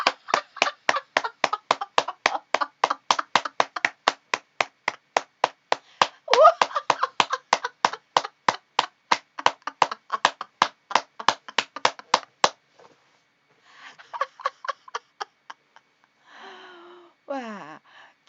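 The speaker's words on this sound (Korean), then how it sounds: "박수 치면서 10초만." Rapid, steady hand clapping, many even claps in a row for about twelve seconds, followed by a short pause and some faint voices.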